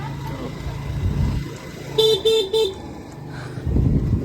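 A car horn blares three short toots in quick succession amid nearby road traffic and engine rumble, with a little background noise around the honks.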